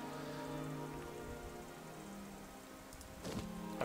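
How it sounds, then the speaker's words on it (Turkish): Soft, steady rain patters in the video game Skyrim, a faint continuous hiss with a few brief louder sounds near the end. "Karla karışık yağmura döndü."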